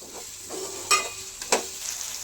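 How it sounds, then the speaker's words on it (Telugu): A spoon stirs tomato rice in a pan, with two sharp scraping clacks amid soft sizzling, close and fairly quiet, with no talking. "ఒకసారి ప్లేట్ తీసి బాగా మళ్ళీ ఒకసారి కలుపుకోవాలి"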